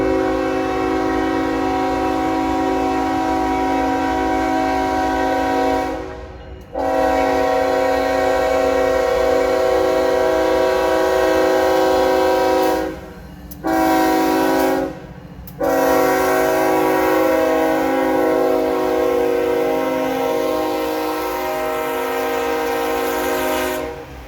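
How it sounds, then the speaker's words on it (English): Norfolk Southern 18D autorack freight train led by heritage unit NS 8102 with NS 4454, passing near Spartanburg, South Carolina, sounding a loud sustained multi-note horn in long blasts with brief gaps, over steady rumble of the passing train. "18D had NS-8102, the Pennsylvania Heritage Unit, leading NS-4454 on this autorack train bound for Charleston,"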